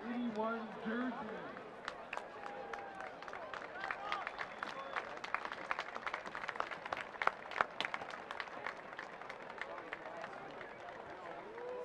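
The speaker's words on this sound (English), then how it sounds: "please join in a round of applause for the Carolina Lightning" A stadium crowd at a Charlotte Independence soccer match breaks into broad, continuous applause with scattered sharp claps and some voices mixed in, lasting throughout.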